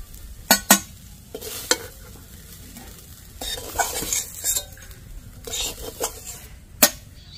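Potatoes frying in a wok while being stirred, with a steady sizzle and several sharp scraping knocks of a utensil against the pan, close by.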